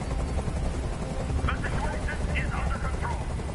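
Constant thudding rotor drone of a helicopter in the video game Detroit: Become Human, steady and fairly loud, with a voice speaking briefly over it.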